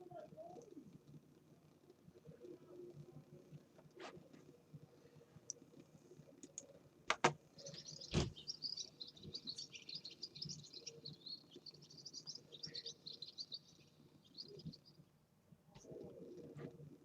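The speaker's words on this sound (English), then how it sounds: "we're definitely getting bird sounds" Birds chirp in bursts, with soft cooing and a few sharp clicks over a low background hum, faint and distant, while a voice talks now and then.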